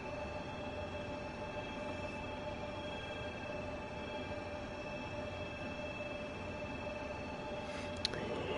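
Heavy DB BR 187 electric locomotive hauling a loaded log train in Train Sim World 3, a steady dense rumble of rolling wagons with a faint tonal whine held throughout and a brief click near the end.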